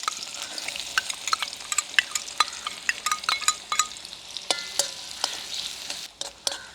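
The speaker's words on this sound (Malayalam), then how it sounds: "നെയ്യ് ചൂടായതിന് നമുക്ക് ഉള്ളി ഇട്ട് കൊടുക്കാം." Onions fry in hot ghee in a wok, giving a bright, crackling sizzle broken by frequent sharp spatula clicks and scrapes against the pan.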